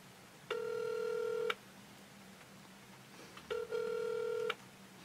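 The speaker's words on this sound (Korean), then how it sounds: "개그맨 이진호한테 전화하고 있습니다" A telephone call's ringback tone plays twice, each ring a steady electronic burst about a second long with a pause between, clear and alone over faint background hum.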